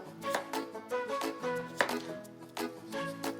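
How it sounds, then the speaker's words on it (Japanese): A knife mincing garlic on a cutting board: a quick run of light, crisp chops, close and fairly quiet, with a soft musical background underneath. "まずニンニクみじん切りですね。"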